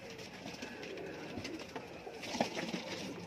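Teddy pigeons in a loft give soft, low cooing calls, fairly faint against a steady background hum, with one slightly louder coo near the end.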